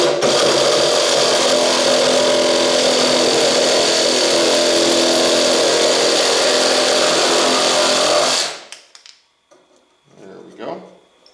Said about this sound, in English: here's my Sawzall. Let's go ahead and make this cut.